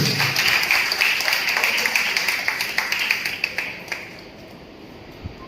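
Audience applause for an honored guest at a gathering, loud scattered clapping with sharp individual claps that thins and fades toward the end, a brief voice heard near the start.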